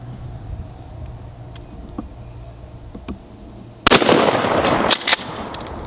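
A Remington 870 Youth 20 gauge shotgun fires at small 1-pound propane tanks outdoors: one loud close blast with a rumbling tail and a second sharp crack just after, following faint quiet ticks.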